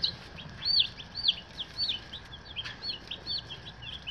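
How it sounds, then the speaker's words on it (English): Young meat-bird chicks peep in a rapid string of thin, high chirps, close and steady over a faint background hiss, with no voices. "More chicks."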